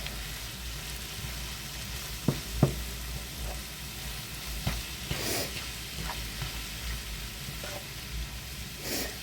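Onion and green pepper taco filling stirred in a pan, a steady sizzle broken by a few scraping knocks of the utensil, close and moderately loud, no speech.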